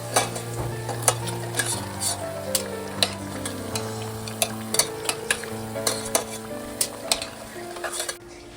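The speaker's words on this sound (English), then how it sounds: "I'm going to wait until these finish frying" Oil sizzles steadily as plantains fry, with a metal utensil clinking and scraping against the pan at regular intervals.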